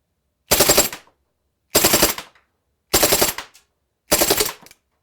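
An HFC M190 full-metal airsoft pistol fires four separate bursts of rapid full-auto fire, each about half a second long. The bursts are close and loud, with silence between them.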